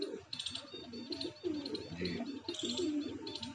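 Pigeons coo in a loft with repeated soft, low throaty calls close by, joined by occasional higher chirps, while someone talks over them.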